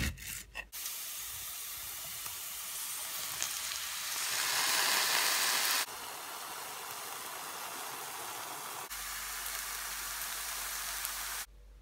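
Diced mushrooms frying in a pan with onion and garlic, a steady, close, bright sizzle that swells louder for a moment before settling into a continuous crackling hiss, with no voices.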